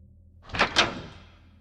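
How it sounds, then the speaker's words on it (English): A bedroom door opening in the middle of the night as a horror sound effect, one short double thud and rasp that rises quickly and fades, standing alone in near-silence. "I heard the bedroom door open."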